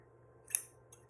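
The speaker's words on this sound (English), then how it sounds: "So I take scissors" A single crisp snip of scissors trimming embroidery floss ends, followed by a couple of faint, quick clicks of the blades, close up in a quiet room.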